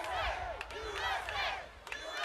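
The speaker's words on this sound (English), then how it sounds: "the 300-pounder crush had the support of the capacity crowd" A packed capacity arena crowd at a 1993 heavyweight wrestling bodyslam challenge cheers and yells loudly and continuously, many voices rising and falling in waves throughout.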